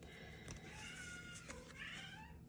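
Indoor house cat meowing, a couple of drawn-out meows over a steady noisy background hum, fairly faint and without speech.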